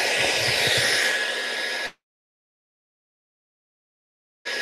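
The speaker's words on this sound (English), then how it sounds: "I'm going to fire up the old hair dryer" A hair dryer blows with a steady, loud whoosh, cuts off abruptly into silence, then starts up again.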